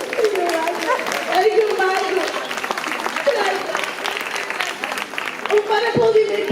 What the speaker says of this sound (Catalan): Un bon aplaudiment, per favor.